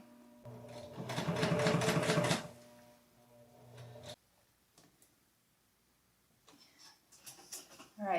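A sewing machine stitches along a pillowcase edge in one fast, steady burst of about two seconds, then slows and stops, leaving near silence and a few light handling clicks.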